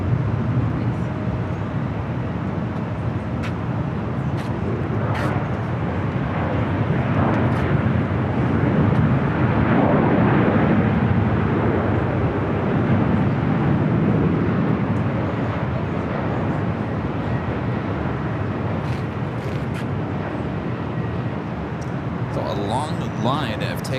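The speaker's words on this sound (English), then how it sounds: "takeoffs happening here on the north side" Airplanes take off on the north side of LAX airport, a sustained low roar of jet engines rising and fading in the distance, with people talking over it.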